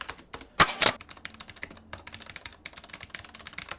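A Corsair K70 keyboard with silver switches is typed on in quick, continuous runs of crisp clacking keystrokes, close by, with one louder burst near the start.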